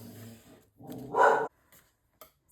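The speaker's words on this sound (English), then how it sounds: "Sorry about the barking. My puppy gets really excited when the mailman comes," A puppy lets out a few sharp, high yapping barks close by, then quiet with a faint yip near the end.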